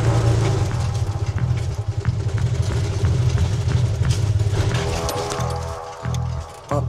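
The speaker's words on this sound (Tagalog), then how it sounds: "Namatay ang makina." A tuktuk engine idles with a loud, steady low throb and rattling vibration, rocking slightly, then sputters and cuts out near the end, leaving a short quiet gap.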